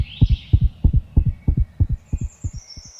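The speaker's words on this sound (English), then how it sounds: "chipmunks have a normal heartbeat of" A chipmunk's heartbeat racing at about 350 beats per minute, a fast, steady run of paired thumping beats, close and clear, with a faint high chirp in the background.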